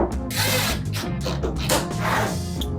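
A power drill drives screws to join flat wooden panels for a small DIY cleaning cabinet and bin, its motor whining loud and close in continuous bursts with rising and falling pitch as each screw bites in.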